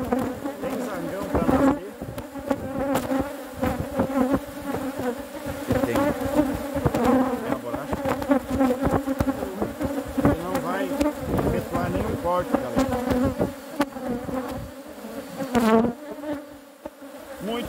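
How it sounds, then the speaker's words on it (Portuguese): Bee swarm buzzing at a beehive during a honey super inspection, a dense, steady drone close by with sharp bursts as bees fly past, continuing alone without talk. "Que enxame"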